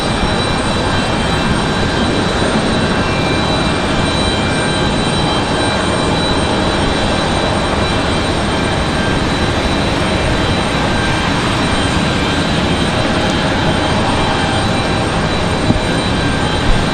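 Steady roar of jet engines at RDU airport, Raleigh-Durham, near the runway where Boeing 777s wait to depart; a loud, constant wash of engine noise that never lets up, no voices.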